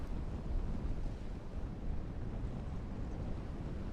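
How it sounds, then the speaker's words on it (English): Sandstorm wind in the video game Dune: Awakening, a steady, dense roar of broadband rushing noise that holds loud and unbroken throughout with no talking. "A large sandstorm is approaching."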